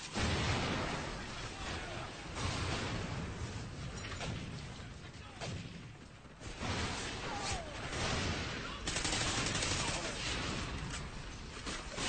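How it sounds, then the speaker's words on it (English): Call of Duty Ghosts Blitz match gameplay with dense bursts of in-game gunfire and explosive impacts, heard continuously under game effects with background chatter from players. "I shot him as soon as I could see him."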